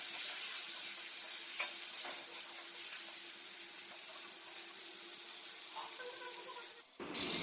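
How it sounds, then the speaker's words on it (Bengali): Mutton is added to reddish-browned fried onions in a pan and stirred, producing a steady close sizzle with soft scraping and stirring noises, ending in a brief louder clatter; no voices. "এবার মাংসটা দিয়ে দেব। মাংসটা দিয়ে নেড়ে নেব।"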